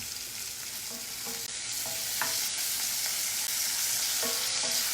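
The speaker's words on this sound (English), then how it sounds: "Yeah, we'll give them a little stir." Vegetables sizzle loudly and steadily in a pan, close by, while a spatula stirs and scrapes across the bottom in a few short strokes, with no talking.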